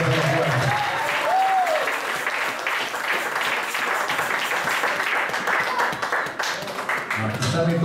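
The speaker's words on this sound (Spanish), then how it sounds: "Dele palmas y eso al Señor" A church congregation claps for the Lord during a Spanish-language service, sustained lively clapping through the room with voices and a brief exclamation rising over it near the start and end.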